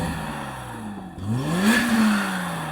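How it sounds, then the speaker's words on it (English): A BMW M5 engine revs, a low drone dipping briefly then rising in pitch and swelling louder before easing back to a steady rumble, heard alone without speech. "Now let's quickly compare the sound of these cars' engines."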